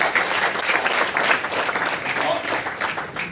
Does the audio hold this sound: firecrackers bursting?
no